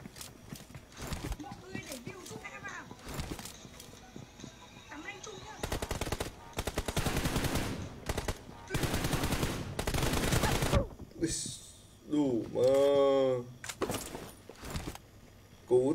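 Gunfire from a shooting video game comes in sharp bursts and rapid volleys, some of them long, mixed with game effects. A voice is heard briefly near the end.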